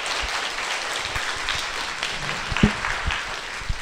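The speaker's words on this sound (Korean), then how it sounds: "손승우 교수님한테도 큰 박수 보내주세요." An audience at a public science lecture claps for a professor: sustained, moderately loud applause with a few sharp individual claps and thumps standing out from the crowd's steady patter.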